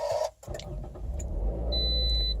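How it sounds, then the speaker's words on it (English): A 2012 Toyota RAV4 Limited with a four-cylinder engine and front-wheel drive starts on a cold morning with a brief crank, then settles into a low, steady idle rumble close by, while a thin electronic tone rings partway through. "And then we're going to start up my RAV4."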